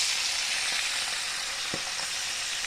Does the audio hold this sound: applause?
no